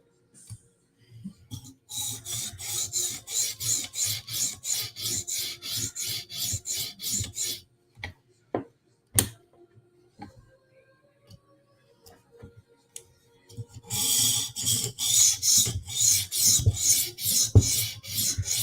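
Knife blade being sharpened on a KME guided sharpener, a rhythmic rasping scrape in quick repeated strokes, loud and close, pausing midway for a few isolated taps before the strokes resume.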